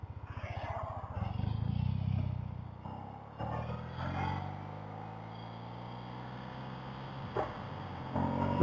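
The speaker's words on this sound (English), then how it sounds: "Bike runs really well." A motorcycle on an open ride runs low and steady with a faint engine hum, some clatter and wind noise, and a brief louder surge near the start.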